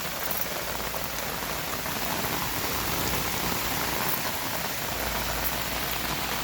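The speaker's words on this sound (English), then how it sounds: "it's raining so hard you can't even see it." Heavy rain pours steadily onto trees in woodland during an Ohio autumn bow season hunt, a dense, constant hiss with no pauses, fairly near and uniform throughout, with no voices.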